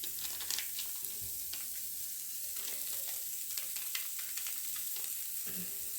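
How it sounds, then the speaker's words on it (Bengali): Cauliflower fries with spices in a pan, a quiet, steady sizzle broken by scattered crackles and stirring taps, close and with no voices. "তাড়াতাড়ি সব মশলাপাতি দিয়ে ফুলকপিটাকে কষে নিই আগে ভালো করে"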